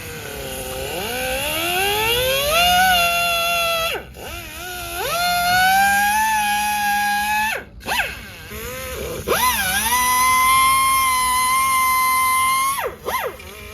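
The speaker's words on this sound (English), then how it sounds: "Now we got power tools going. Grinder." Angle grinder cutting off a metal cap on a Porsche Cayenne, a loud whining motor that rises and dips in pitch as it bites into the metal, with short pauses between cuts.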